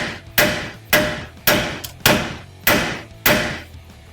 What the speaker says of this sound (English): you just get a really big sledgehammer and just hit it right here at the bottom